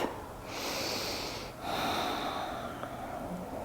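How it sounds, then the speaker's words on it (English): Deep breaths drawn and released during a yoga stretch, a soft inhale followed by a longer airy exhale through the nose, close and quiet with no talking. "And breathe."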